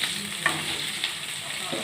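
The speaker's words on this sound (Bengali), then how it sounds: "এবার আমার পেঁয়াজটা ভাজা হয়ে এসেছে মোটামুটি" Onions frying in a wok on a gas stove for a chicken keema and egg khichuri, giving a steady, close sizzle with a few light stirring scrapes and no talking.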